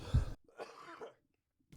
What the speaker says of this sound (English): I'm hoping I just get like one good cough and then it's gone